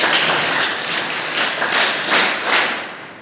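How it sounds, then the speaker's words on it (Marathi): Applause for the chief guest at a district-level school taekwondo competition, a steady crowd clapping that swells in several loud waves over the whole stretch without any talk. "त्यांच्यासाठी एकदा जोरदार टाळ्या"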